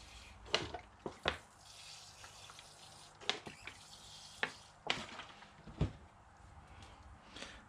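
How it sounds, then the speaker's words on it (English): Spray bottle misting water onto a bonsai pine or redbud during repotting: a series of short, sharp hissing squirts at irregular intervals, close and fairly quiet, with faint handling sounds between them. "Give it a bit of a spray with our water bottle."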